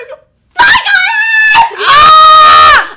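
A person lets out loud, high screams, one short burst followed by a longer, strained shriek, close and alone with no talk.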